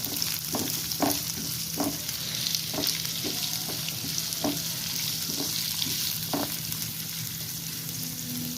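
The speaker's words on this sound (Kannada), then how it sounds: "ಈರುಳ್ಳಿ ಸ್ವಲ್ಪ ಫ್ರೈ ಆಗಲಿ." Lengthwise-cut onion slices fry in a pan with a steady close sizzle, punctuated by regular scrapes and taps of a spatula stirring them; no voices.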